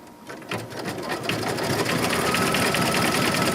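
A Cricut or Cameo cutting machine works through fabric in a steady zigzag path around an image, giving a continuous close mechanical whir with rapid rhythmic ticking that builds slightly in loudness, with no voices.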